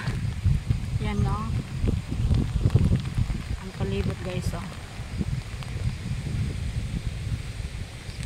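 Strong storm winds roar and buffet the microphone in a constant low rumble, with people talking briefly over the gusts.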